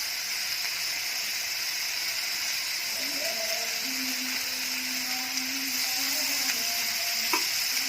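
Marinated beef sizzles and fries on a Korean barbecue pan, a steady loud hiss with brief scraping from turning the meat, no talking heard.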